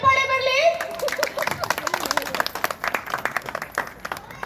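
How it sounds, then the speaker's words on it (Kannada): Audience applause and clapping at an Indian saree fashion show featuring Mysore silk sarees, a dense burst of hand claps that swells and continues steadily, with a voice briefly audible at the start. "ದೊಡ್ಡ ಚಪ್ಪಾಳೆ ಬರಲಿ."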